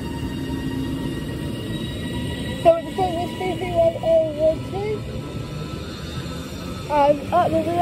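A passenger train on the service to Manchester Airport at Adlington station in Lancashire, heard as a low rumble with squeals and tonal whines from the wheels and motors, while someone speaks over it.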